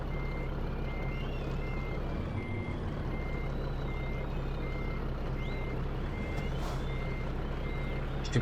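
A Scania truck reverses in a truck driving simulator game. Its steady, evenly spaced reversing beeps repeat over a constant engine rumble, with a brief hiss of air near the end.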